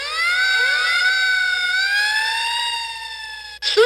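A fire broadcast control panel sounds a loud electronic fire-alarm siren, one continuous rising and wavering wail lasting nearly four seconds. It cuts off abruptly, followed by a brief burst of noise.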